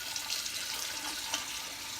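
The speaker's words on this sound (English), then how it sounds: "Put hot water in it" Hot water pours into a kombucha jar being cleaned, a soft continuous splashing and trickling stream, faint and steady for about two seconds with no talking.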